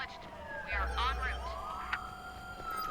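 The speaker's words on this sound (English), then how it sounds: "That was a police car." A police car siren in the video game Watch Dogs 2 wails through rising and falling sweeps, moderately faint and passing behind a low rumble of in-game ambience.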